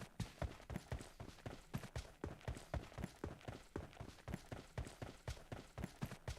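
Footsteps in PUBG Mobile, a quick, steady run of sharp, evenly spaced steps, about three per second, fairly close and clear, with nothing else intruding.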